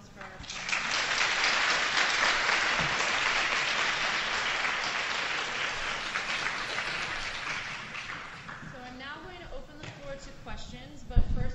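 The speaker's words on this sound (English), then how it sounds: "I'd like a round of applause for our" Audience applause after a formal college debate, a broad sustained wash of clapping that builds quickly, holds steady for several seconds, then thins out into scattered claps near the end.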